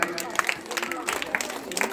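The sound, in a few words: audience applause at religious katha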